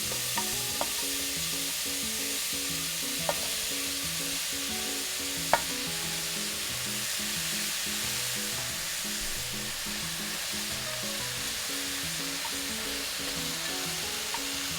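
Vegetables and konjac stirred in oil in a pan for a Japanese pork miso soup, with a steady close sizzle and a few sharp clicks of the utensil against the pan, no talking.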